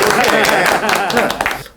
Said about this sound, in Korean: 여기 박수 크게 쳐요